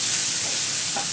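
Bacon being stir-fried hard in a pan gives a loud, continuous sizzle with scraping stirring close by, and no one speaks.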